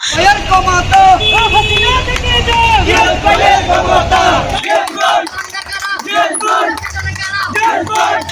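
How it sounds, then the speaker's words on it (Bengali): Party activists chant slogans together at a political procession, a loud massed crowd of voices with shouted calls and responses, moving traffic noise underneath. "রাউজান থেকে যাওয়া নেতাকর্মীদের স্লোগানে স্লোগানে মুখরিত হয় পুরো এলাকা"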